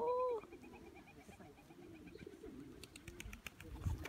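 A pigeon coos briefly at the start in an outdoor spot around Ballarat, Melbourne, followed by quiet ambient rustling and faint scattered noises.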